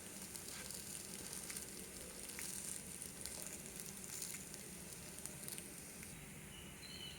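Instant jowar ponganalu frying in a pan with oil or ghee, a soft, steady sizzle with light crackling pops throughout, close and quiet, with no talking.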